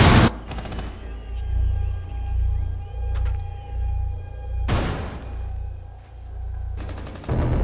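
Shotgun fire in Rainbow Six Siege: two loud, sharp blasts several seconds apart, with a rumbling, busy firefight backdrop between them.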